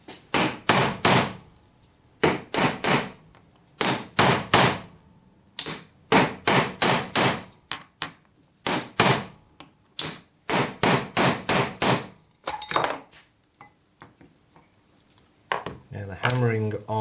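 Metal hammer strikes on a ring's bezel setting held in a collet block resting on a rubber mat, delivered in quick bursts of sharp clinking taps separated by short pauses, close and alone, with a faint voice near the end.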